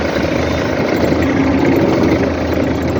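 Kubota GT 3 tractor engine running steadily in third gear without throttle, a loud, constant low idle-like rumble with no talk.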